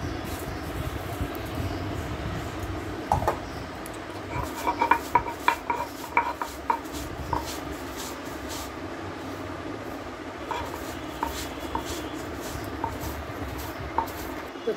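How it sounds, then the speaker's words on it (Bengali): Fried shrimp ground on a pata grinding stone, a steady rasping, scraping stone-on-stone rhythm with scattered clinks and knocks, close and moderately loud, no talking. "এই যে ভেজে রাখা চিংড়িটা পাটা দিয়ে দিচ্ছি"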